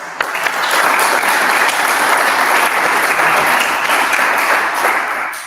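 A live audience at a startup demo night gives a round of applause: dense, loud clapping that swells quickly after a sharp first clap, holds steady for several seconds, then begins to thin.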